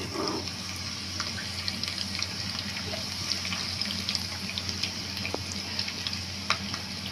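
Thinly sliced garlic sizzling in about three spoonfuls of oil already used for frying beef in a pan, a steady close crackle with scattered sharp pops throughout.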